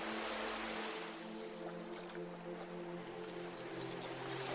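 Sea waves wash steadily at the seashore as a broad, continuous rushing surf, fairly loud and alone, with a low steady hum running underneath.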